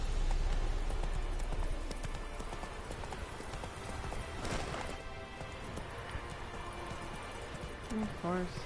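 Roach, Geralt's horse in The Witcher 3, gallops with a fast rhythmic clip-clop of hooves, moderately loud and steady, with a short whinny near the end and someone speaking briefly over it.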